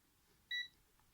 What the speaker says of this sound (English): my multimeter produces a beep